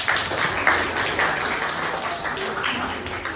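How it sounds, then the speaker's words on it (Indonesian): Schoolchildren in a classroom clap for a classmate named Afifah after she shares her answer, a brief burst of scattered clapping at moderate volume. "tepuk tangan untuk Afifah"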